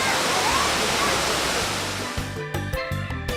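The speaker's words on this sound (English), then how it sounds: "a river rampaging through rocks" A river rampages through rocks below the twin peaks of Cuernos de Negros in Negros Oriental, a dense continuous rush of water filling the first half before music with sharp percussive hits takes over.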